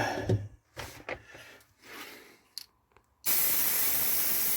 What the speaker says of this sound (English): Light spray from a distance,